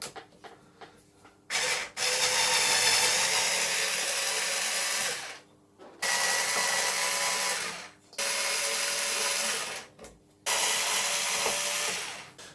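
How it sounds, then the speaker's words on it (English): An electric screwdriver unscrewing, whirring in four long bursts separated by brief pauses, close and steady with a high-pitched motor whine, no talking. "we need a screwdriver now. Well, let's use the electric one,"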